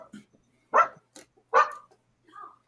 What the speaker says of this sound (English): will get him to stop barking